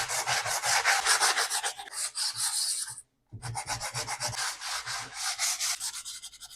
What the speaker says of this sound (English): So first, I'll go over with this 80 grit sandpaper.